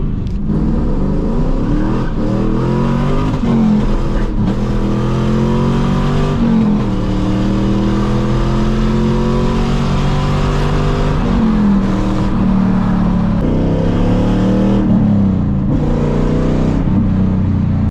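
A 1999 Pontiac Trans Am 30th Anniversary V8 pulls hard up an on-ramp, its loud close engine note climbing in pitch through several gears, each upshift dropping the tone before it rises again, with no talking.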